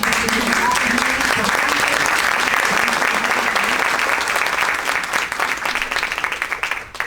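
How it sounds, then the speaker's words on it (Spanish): An audience at a hotel panel on economic violence claps loudly in a sustained, dense burst that thins and fades toward the end, with some voices murmuring underneath. "Yo quisiera un aplauso para él."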